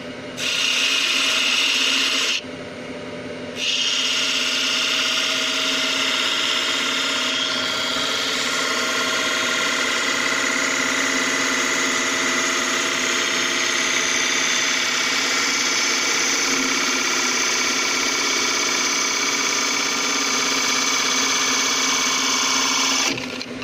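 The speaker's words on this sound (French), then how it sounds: "une fois mon rond de serviette poncé est fini, on va pouvoir le couper" A wood lathe spinning a turned wooden napkin ring as it is cut off, a steady whirring tone with scraping tool contact, loud and continuous after a brief pause near the start.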